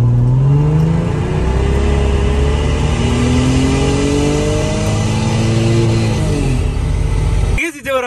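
Old Toyota Supra MK3 pulling away hard from a standstill, its engine note rising through repeated climbs in pitch as it works up through the gears, loud and close inside the car, ending with an abrupt cut.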